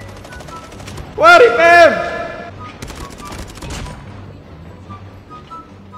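Gunfire from a Russian weapon in the Call of Duty Mobile video game: a short, loud burst of rapid shots, then scattered fainter firing and game effects, with a voice talking over it.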